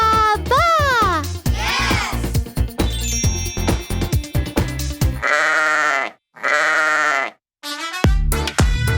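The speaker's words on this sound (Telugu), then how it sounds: "గొర్రె ఏమంటుందంటే బాబా." A sheep bleats several times in loud, wavering calls, close and clear, set among musical tones and electronic sounds in a children's farm-animal lesson.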